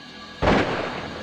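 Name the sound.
gunshot in a film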